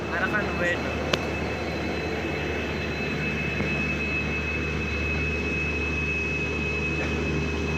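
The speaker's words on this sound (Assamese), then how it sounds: "ডিব্ৰুগড়ৰ ষ্টেচনত এতিয়া ট্ৰেইনখন সোমাই আছে।" Train slowly pulling into Dibrugarh station at night, a low steady rumble with a thin high whine and a sharp clank near the start, fairly quiet and even throughout.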